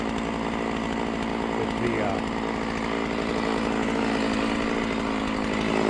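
A Stihl MS660 chainsaw runs loud and close at a steady high-revving drone, with a brief voice barely audible beneath the engine.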